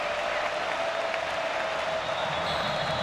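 A stadium crowd at a college football game between Northern Iowa and Iowa State roars steadily on a third-and-long defensive play, a dense, continuous wash of cheering and applause heard at a distance.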